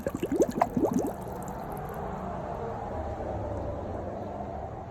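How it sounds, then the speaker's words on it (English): Rocks in a jug form a homemade aquarium filter, with airline tubing pushing water up through them: brief bubbling, trickling gurgles at the start, then a steady close watery hiss. "It's just some rocks in a jug, and then the airline tubing sends water up through the rocks."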